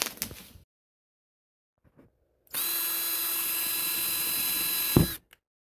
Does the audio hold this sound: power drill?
yes